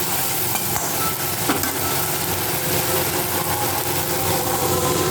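Spice masala for a katla fish curry being stirred and fried in a pan, a continuous loud sizzle with scraping stirring sounds close by and no talk.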